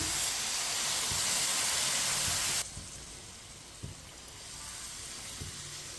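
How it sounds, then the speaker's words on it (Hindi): Water poured into walnut halwa roasting in a pan sets off a loud, steady steam hiss that cuts off abruptly, leaving quieter sizzling and light clinks. "अब इसमें 2 प्याली पानी डाल लेते हैं।"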